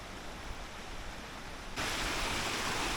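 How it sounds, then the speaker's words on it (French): A small stream flows beside a path in Belgium, giving a steady broadband rush of water with no voices. Partway through the sound jumps louder and brighter, as if the water is suddenly much closer. "Il y a un petit ruisseau tout le long du chemin."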